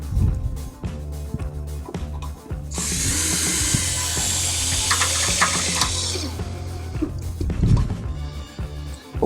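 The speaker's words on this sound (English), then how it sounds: "We're going to use our 3/4 inch Tech screws and a number 2 square drive bit." Power drill driving 3/4 inch Tech screws with a number 2 square drive bit while fitting aluminum stair railing clips, a sustained close, loud whirring burst lasting several seconds between shorter handling clatters.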